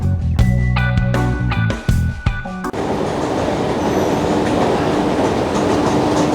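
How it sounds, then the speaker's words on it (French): Metro train on a ride heading toward Roubaix, starting with loud clanks and rhythmic rail knocks, then settling into a steady, close rumble of wheels on track. "on va prendre le métro"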